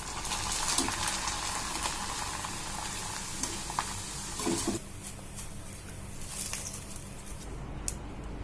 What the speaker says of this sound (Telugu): ఇప్పుడు కొద్దిగా కార్న్ఫ్లెక్స్ కూడా వేయించుకుందాం.